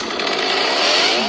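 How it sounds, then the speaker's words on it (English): A chainsaw from the Texas Chainsaw Massacre film revs loud and close with a harsh, steady buzzing whine that holds through the whole short burst. "The chainsaw has a tone."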